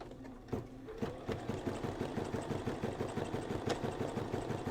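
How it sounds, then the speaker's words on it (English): Embroidery machine stitching a design, a steady fast mechanical chatter of the needle with regular rapid pulses, close and continuous with no talk. "So I'm going to go ahead and get that started stitching."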